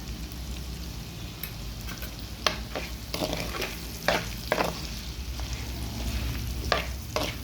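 Bitter gourd pieces fry in a pan with a little turmeric, giving a steady sizzle with repeated scraping stir strokes at irregular intervals.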